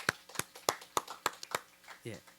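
At a 2024 multicultural event and conference, a quiet, sparse clapping welcomes a judge, with roughly seven distinct claps spaced out and a brief voice at the end.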